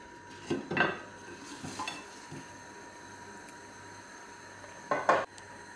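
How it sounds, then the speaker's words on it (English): Light clattering and rattling as chips are tipped from a Tefal Actifry air fryer pan onto a plate, in a few short bursts with quiet gaps between. "then you can just pour them out onto the plate"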